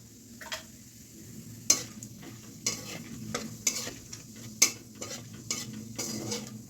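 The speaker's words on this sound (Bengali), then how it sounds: "এবার 1 চামচ সাদা জিরে দিয়ে দিচ্ছি" White cumin seeds drop into hot oil already flavoured with bay leaf, cinnamon, cardamom and cloves, sizzling softly while a spoon scrapes and clinks against the pan in several sharp, irregular strokes.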